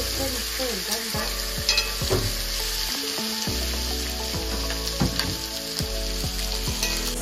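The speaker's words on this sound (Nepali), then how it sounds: "उता मासु पनि डढ्दैछ चलाउँदै पनि गर्नुपर्छ" Chicken pieces fry in a pot while being stirred, a steady close sizzle broken by repeated scraping and knocking strokes of a spoon, with background music running underneath throughout.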